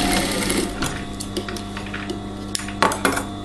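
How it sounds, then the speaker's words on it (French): A sewing machine stitches along the facing of a dress with a steady, close, mechanical whirring hum and a few light clicks and taps, with no voices. "je vais coudre ici, tout au long de la parmenture"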